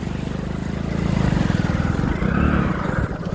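A motorbike is ridden through shallow water in the Saraswati river, its engine a close, loud, pulsing drone that swells and holds, with churning water under it.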